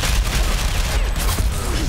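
Rapid gunfire in the online shooter Ghost Recon Phantoms, a dense, loud burst of overlapping shots lasting about two seconds.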